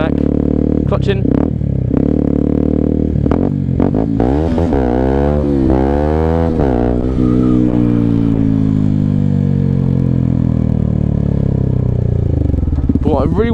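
125cc motorcycle engine revving hard and rising in pitch as the rider lifts the front wheel for a wheelie, loud and close, then holding a steady drone before easing off.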